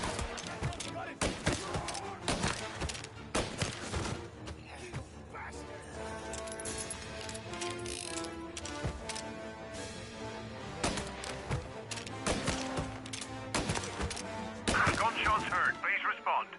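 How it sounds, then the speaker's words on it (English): Bursts of gunfire crack repeatedly amid thuds and impacts in the video game Mafia: Definitive Edition, with voices talking over the shooting throughout. "Gunshots heard. Please respond."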